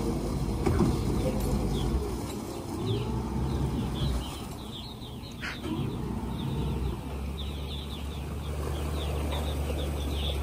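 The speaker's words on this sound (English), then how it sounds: "To get to our first island, it's about an hour boat ride from Garris Landing in Awandaw." A motor boat runs steadily across open water on a long ride out to coastal islands in the Cape Romain refuge, a continuous low engine and hull rumble with wind and water wash, occasional faint bird calls above it.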